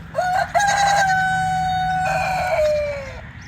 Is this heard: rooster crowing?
yes